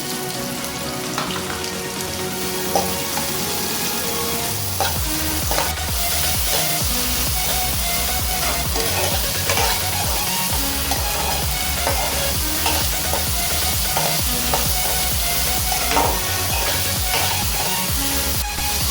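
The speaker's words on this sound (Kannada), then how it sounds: "ಕೆಂಪಾಗೋ ಗಂಟ ಎಣ್ಣೆಲಿ ಫ್ರೈ ಮಾಡ್ಕೋಬೇಕು." Crushed garlic and onion fry in hot oil in a pan, a dense, loud, continuous sizzle with frequent stirring scrapes and spoon taps throughout, nobody speaking.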